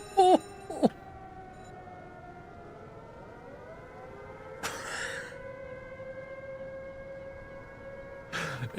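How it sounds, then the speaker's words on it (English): Air raid sirens wail in a WWII naval game set in the 1941 Mediterranean campaign: several long, rising and falling tones overlap and sustain, with brief louder bursts of noise near the start, middle and end. "All the sirens are going."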